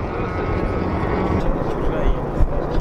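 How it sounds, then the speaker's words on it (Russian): A quadcopter drone flies near a winter ice-race track, giving a steady buzzing whir mixed with engine and wind noise over a few seconds. "Кто-то коптер запустил."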